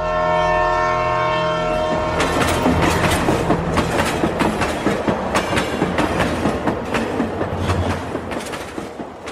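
A train passes on the rails, starting with a long drawn horn that gives way to a steady, loud clickety-clack of wheels over the track joints, heard close and continuous.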